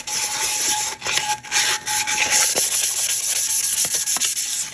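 Abrasive sanding of a resin tumbler, a steady loud rasping rub with brief pauses and strokes continuing throughout, close up and without voices.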